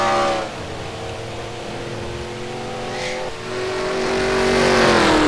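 Open-wheel race car engine revving up to speed on the Michigan track after a caution, a loud sustained drone that dips briefly then climbs steadily in pitch, with a second car faintly passing.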